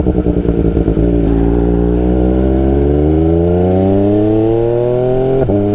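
An MV Agusta motorcycle revs, then pulls away with a loud, close engine note climbing steadily in pitch through the gears as it accelerates off from the Circuit of the Americas.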